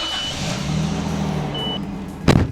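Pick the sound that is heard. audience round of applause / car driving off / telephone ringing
car driving off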